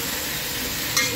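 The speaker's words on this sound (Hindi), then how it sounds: "अब हम इसको अच्छी तरह मिक्स करते हैं।" Potatoes with turmeric and salt being stirred in a pan, a steady soft scraping and light sizzle with a brief clink of the spoon near the end.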